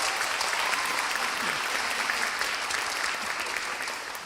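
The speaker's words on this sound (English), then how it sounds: "Can we give a round of applause to our drummers?" A ceremony audience at a university rites of passage event gives a sustained round of applause for the drummers, dense and steady clapping from a large crowd that eases slightly at the end.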